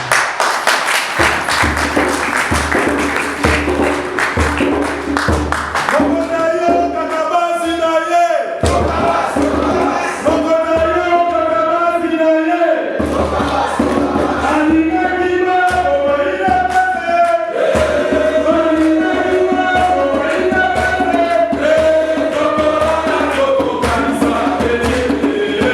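A crowd at a UDPS party gathering in South Africa cheers and claps loudly to welcome the federal president, with rhythmic chanting and a musical, sung-sounding swell running through a long, dense stretch.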